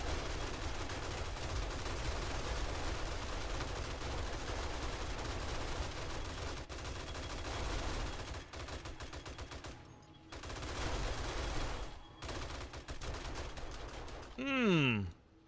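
Sustained automatic gunfire from the survival video game 7 Days to Die, loud and dense bursts rattling almost continuously, with short pauses near the end and a voice speaking briefly.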